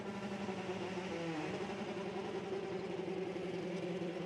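Several BTCC touring car engines idle together on the grid at Snetterton in a steady, droning rumble with a low harmonic tone, continuous throughout and fairly distant.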